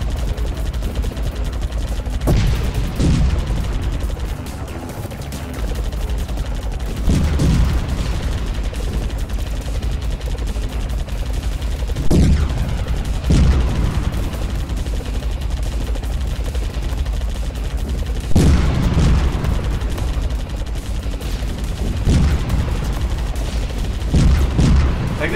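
Missiles and gunfire from the video game Preventive Strike rumble steadily throughout, with repeated heavy booming impacts spaced every few seconds over a constant loud barrage.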